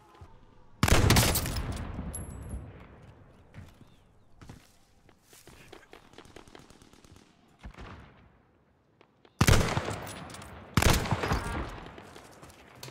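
PPSh submachine gun fire in a video game: two loud, sustained automatic bursts near the start and end, with scattered shots, footsteps and quieter game activity between them.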